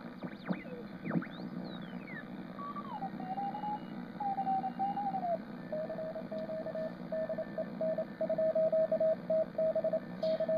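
CW Morse code signals tuned on a regenerative two-tube 40 meter receiver: sweeping whistles as stations pass, then a steady keyed tone beeping in a rhythmic dot-dash pattern over radio hiss.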